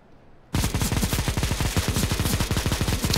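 A Negev machine gun in CS:GO fires a long, steady stream of rapid rounds that begins abruptly after a brief quiet moment and stays loud and evenly rhythmic to the end.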